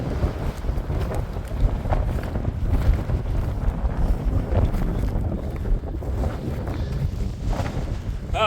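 Strong wind blows across an open mountain ridge, roaring and buffeting the microphone in a continuous loud rush with gusty fluctuations and no pauses.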